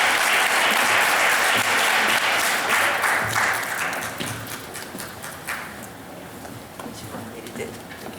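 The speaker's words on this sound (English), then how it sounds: "So let's give him a round of applause." An audience at a nurses' day celebration breaks into loud, dense applause that holds strong for a few seconds, then thins and fades into scattered claps.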